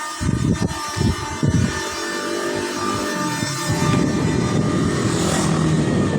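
A boat engine runs nearby in a hot riverside setting in Alangan, a steady mechanical drone with rough low-end pulsing that holds loud and continuous throughout.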